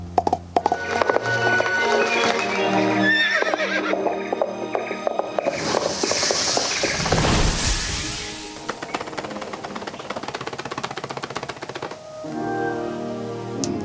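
Coconut shell halves knocked together by a foley artist to imitate horse hooves, a rhythmic clip-clop that runs steadily, breaks into a brief burst of noise midway, then resumes clearly and close.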